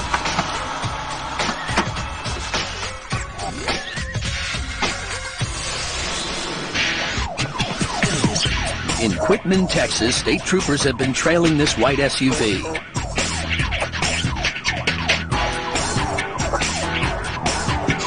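A wailing police siren rises and falls under a narrator's voice during a police pursuit of a car, with road and engine noise throughout.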